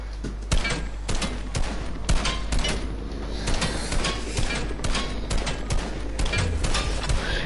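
Dense, continuous video game gunfire with rapid overlapping shots and bursts of automatic fire, loud and close, running without pause throughout.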